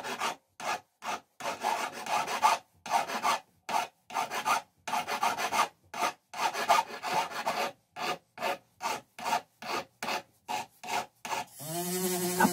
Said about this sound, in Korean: 부석 표면을 깎아서 평을 맞춥니다.